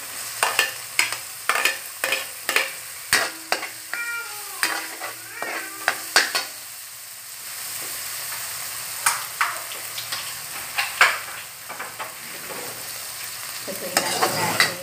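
Spring onions stirred and frying in a pan for a seafood platter: a run of sharp scraping utensil clicks over a steady sizzle, then a quieter stretch of frying with scattered clinks.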